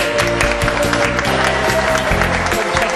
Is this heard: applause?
yes